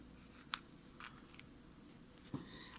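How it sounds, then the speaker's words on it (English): Scissors snip through crochet yarn in a quiet room, with three soft, separate cuts spaced about a second apart and a faint rustle between them. "I'm going to cut the yarn here."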